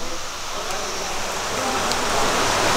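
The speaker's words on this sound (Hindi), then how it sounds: "क्योंकि बारिश हो गई है भयंकर वाली तेज़" Heavy rain pours steadily near a railway bridge site in Reasi, Jammu and Kashmir, a dense continuous hiss that thickens slightly toward the end, with no talk over it.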